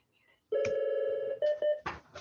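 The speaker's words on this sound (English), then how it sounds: "our phone's ringing here" An office telephone rings in short electronic bursts at close range and fairly loud, with a couple of brief breaks between the tones.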